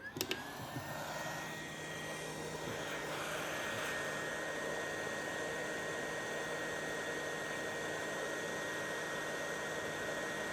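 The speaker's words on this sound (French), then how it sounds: "Et maintenant, on va chauffer tout ça." Heat gun or hair dryer warming the back glass of an iPhone 14 for removal, a steady close airy blowing hiss with a faint tonal whine, running unchanged throughout.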